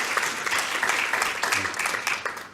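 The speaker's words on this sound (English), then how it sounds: "Big round of applause for Barney." An audience at a talk and quiz on Christianity breaks into a big round of applause, a dense, steady burst of clapping that tapers off toward the end.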